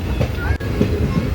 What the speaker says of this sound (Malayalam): തെങ്കാശി റൂട്ടിലോട്ട് ട്രെയിൻ കയറിയിട്ടുണ്ട്.